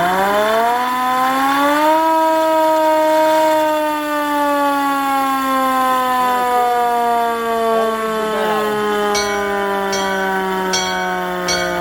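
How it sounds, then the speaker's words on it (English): A hand-crank siren on a 1926 Fairfield fire engine winds up into a loud, sustained wail and slowly sags in pitch as the cranking eases, with a few clicks near the end. "So they had a hand crank siren"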